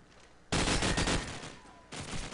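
Gunfire in a competitive shooter video game match, a dense burst of rapid automatic shots lasting over a second, followed by a second burst starting after a brief pause.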